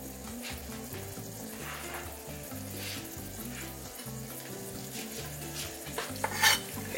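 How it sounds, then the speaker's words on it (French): A piece of ginger sizzles in hot oil in a pan, giving a steady, moderate frying hiss with faint stirring textures, then a brief brighter crackle and clatter near the end. "Je vais mettre un morceau de gingembre comme test. Voir si l'huile est chaude."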